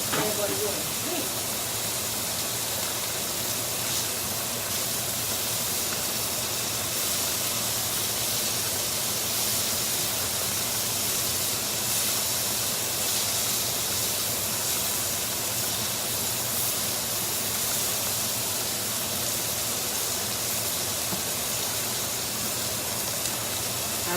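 A hot pan on the grill sizzles in a steady, broad hiss for the whole stretch, with scattered pops, and people talk faintly over it.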